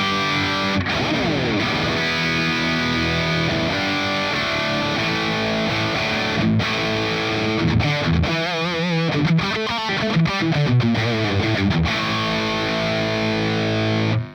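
A Mezzabarba reference amp pushes a distorted electric guitar through steady, loud chugging riffs and ringing chords, a continuous dense wall of gain with brief choppy stops and no talking.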